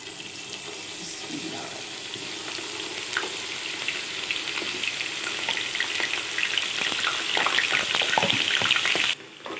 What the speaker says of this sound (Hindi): अब हम आपको इसको फ्राई करके दिखाते हैं एक मिनट में चलें व्यूअर्स ये देखिए ऑयल हमारा गर्म हो गया